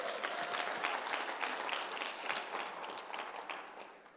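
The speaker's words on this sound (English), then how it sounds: "So I would like to give a round of applause to all my team members that's here tonight." An audience at an evening program gathering breaks into sustained applause, dense clapping from many hands that stays fairly even and then tapers slightly, with no speech over it.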